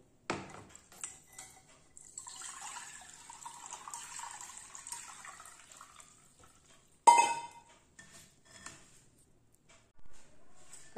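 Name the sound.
straining boiled ginger water through a strainer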